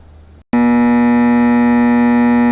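A Lloyds J230 clock radio alarm suddenly sounds after a brief silence, a loud steady electronic buzzing tone that holds continuously, close up and alone.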